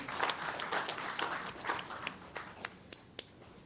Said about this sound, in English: Please give him a round of applause as he comes through.